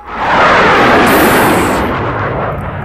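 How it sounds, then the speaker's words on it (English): A heavy airstrike explosion in the Vietnam War video game Vietnam '65 booms out as one loud, deep blast that rumbles on and slowly fades. "we're gonna blow the heck out of them with an airstrike"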